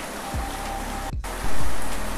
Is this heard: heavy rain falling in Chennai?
yes